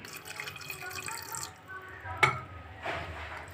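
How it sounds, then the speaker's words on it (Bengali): A little water poured into a dish of ground spices and mustard paste for Bengali ilish bhapa, close and soft; a brief trickle and a light splash against kitchen background noise, with a faint clink. "আর দেবো হচ্ছে সামান্য একটু জল দেবো আমি"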